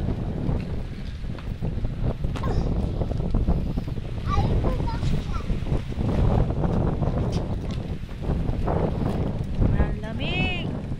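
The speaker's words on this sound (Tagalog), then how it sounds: "Mahangin sa lugar na to kasi po may puno." Wind gusts steadily at an outdoor cemetery under ipil trees, with blustery rumble against the microphone and someone talking briefly over it.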